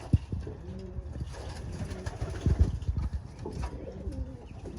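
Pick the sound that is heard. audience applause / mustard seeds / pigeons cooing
pigeons cooing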